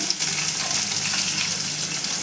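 Onions frying with asafoetida and cumin in a pan over a low gas flame, a dense continuous sizzle heard up close, with no talking.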